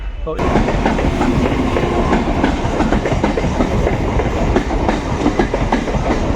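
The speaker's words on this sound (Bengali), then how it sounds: "চার নম্বর প্ল্যাটফর্ম থেকে ওই যে বনগার গাড়ি" A Bangaon-bound train stands at a platform in Ranaghat Junction station, heard as loud, steady rail rumble with clattering wheel and carriage knocks up close, joined by mixed station noise and possible faint voices.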